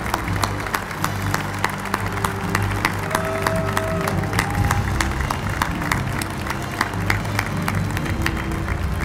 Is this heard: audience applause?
yes